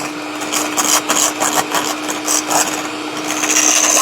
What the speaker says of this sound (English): Make sure you beat this up till it's really creamy. So that's what I'm doing now.